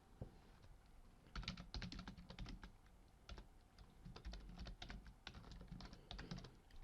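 A headline is typed on a computer keyboard as quick, faint runs of light key clicks in bursts with short pauses, close but quiet, and no talking.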